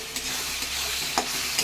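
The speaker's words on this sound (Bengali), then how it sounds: "এদিকে দেখুন মশলাটা কষিয়ে দিয়েছি।" Spice paste for pulao and mutton sizzles steadily in a hot pan, a continuous close frying hiss punctuated by a couple of light stirring scrapes.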